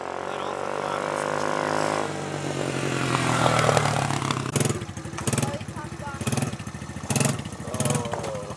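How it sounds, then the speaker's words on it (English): A SuperMach 125cc four-wheeler engine drones loudly, then eases off as the throttle is released, followed by a series of short uneven bursts of engine and handling noise during the gear shift. "Basically, you just throttle down, let off the throttle, and"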